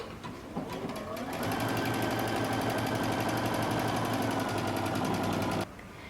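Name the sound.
sewing machine stitching a buttonhole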